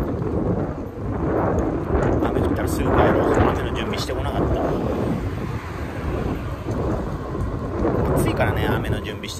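Heavy rain hisses loudly and steadily around a food-delivery rider out in wet weather, a dense, close wash of noise that barely changes, with a voice talking beneath it.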